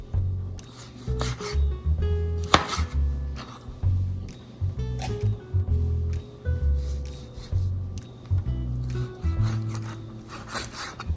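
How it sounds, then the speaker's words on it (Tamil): Raw mutton liver is chopped into small pieces with a knife on a board, making repeated soft, wet cuts and scrapes in uneven bursts close by. "ஈரலை சின்ன சின்ன பீஸா போட்டுக்கிறேன்."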